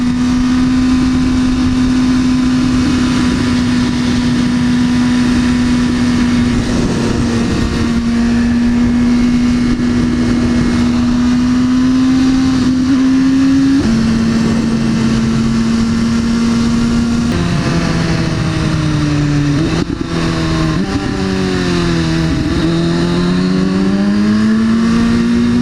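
A McLaren car engine holds a loud, steady droning note while driving, then its pitch wavers, dips and climbs again toward the end as it revs.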